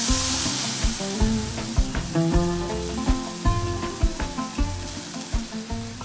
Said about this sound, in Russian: В оставшийся жир и бульон закладываем часть моркови и весь лук.